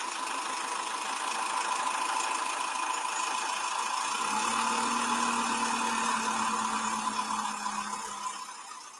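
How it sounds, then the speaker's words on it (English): A diesel tractor engine idling at a steady, even drone with a faint tonal hum joining partway through, close and fairly loud, easing off slightly at the end. "It sounds like a diesel vehicle."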